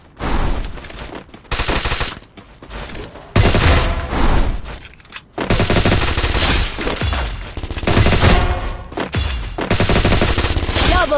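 Video game gunfire with rapid automatic bursts and heavy repeated shots, loud and dense, broken by short pauses, with occasional game voice announcements over it.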